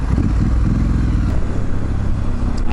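A Triumph Street Scrambler motorcycle engine runs at speed around 120 km/h into a headwind, a loud, continuous low drone heavily mixed with wind rush, with no pauses.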